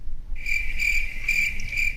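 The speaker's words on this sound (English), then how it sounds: "insert crickets here" Crickets chirp in a steady, pulsing trill, close and clear, with no voices.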